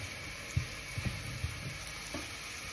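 Finely chopped parsnips are stirred in a hot pan, giving a soft steady sizzle broken by a few light scraping knocks of the spoon.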